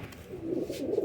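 A pure desi pigeon, called a Nankana Sahib pigeon, coos close by in a soft, low, rolling call lasting about a second with no talk over it.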